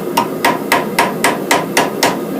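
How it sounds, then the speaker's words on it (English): Hammer striking a nail on an anvil to round its edge over while forging a ring, eight sharp metallic blows at a steady, even rhythm, close and loud with no talking. "Take the hammer, put the edge of the nail over"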